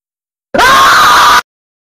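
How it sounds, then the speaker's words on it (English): A single loud, high-pitched scream, close and sustained for about a second, starting and stopping abruptly amid silence. "Okay, that was a loud scream."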